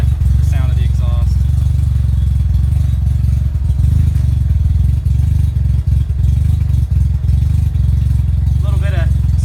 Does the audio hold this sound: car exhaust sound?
yes